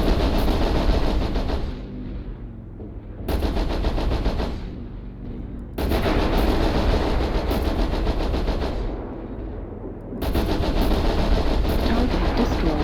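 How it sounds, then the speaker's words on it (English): Repeated airstrike explosions in the MechWarrior Online mech combat game: three or four sustained loud bursts of rapid rumbling blasts, each lasting a couple of seconds, separated by short gaps of quieter residual rumble. "Airstrike online. Target acquired."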